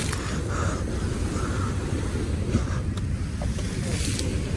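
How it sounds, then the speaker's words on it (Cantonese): Big ocean waves washing around a boat at sea, a loud continuous rush of water and wind with swelling surges and splashes, no talk over it. "好大浪㗎嘛，大浪到我俾人冚濕"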